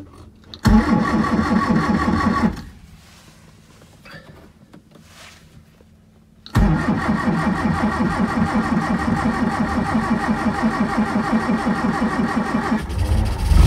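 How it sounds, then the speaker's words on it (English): A Classic Mini engine cranks, catches and runs loudly near at hand, drops to a quieter cranking stretch, then fires again into a sustained rough idle that continues until the end. "Let's give it a turn over."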